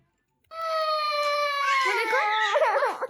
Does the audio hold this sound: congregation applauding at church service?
no